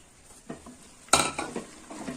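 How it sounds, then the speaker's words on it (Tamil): A spoon scrapes and clinks in a pan while chicken and pidukkam dal are stirred, several soft knocks and one sharper clatter over a faint sizzle. "இதை சேர்த்து நல்லா கலந்து விடுங்க."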